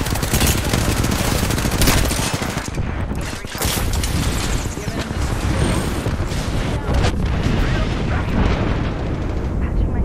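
Loud, sustained Apex Legends gunfire, rapid automatic bursts and impacts crowding the mix with barely a pause, while players talk over the battle.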